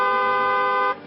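A single sustained car horn blares loud and steady for nearly a second, then cuts off abruptly, leaving a faint tail.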